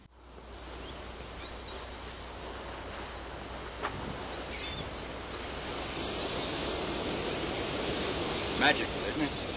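Ocean waves wash onto a sunny beach as a steady, broad surf roar that swells slightly toward the end, with a brief knock and a few faint sounds over the wash.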